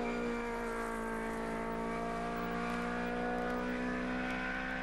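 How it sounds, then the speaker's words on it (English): A Mini GM GT race car passes on the Castle Combe circuit in a saloon championship session, a steady loud engine drone with no talk. "Number 13 going through there, that was Philip Wadsley in the Mini GM GT."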